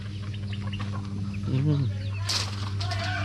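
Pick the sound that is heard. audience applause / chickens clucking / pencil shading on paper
chickens clucking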